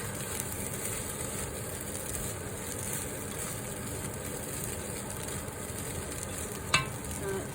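Eggs frying in sesame oil in a pan for homemade fried rice, stirred around as they cook, making a continuous moderate sizzle with soft scraping, and one brief sharp clink near the end.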